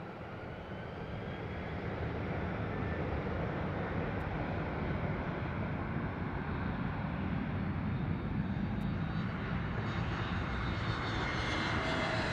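A Frontier Airlines jet lands at Harry Reid International Airport in Las Vegas, its engine roar swelling from moderate to a loud, steady, broad rush that holds throughout.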